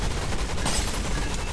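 Rapid gunfire from players shooting in a video game, a dense sustained crackle of shots with one brighter burst near the middle, steady and moderately loud with no talking.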